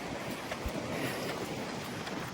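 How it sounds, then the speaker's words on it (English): Strong wind blows outdoors during a run, a steady broadband rush and microphone buffeting that stays constant throughout, with no voices. "It's really windy."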